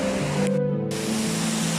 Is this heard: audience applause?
no